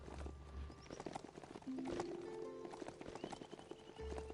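Horse hooves galloping in the video game Biomutant, a fast rhythmic clip-clop running throughout, close and fairly loud over game sound effects.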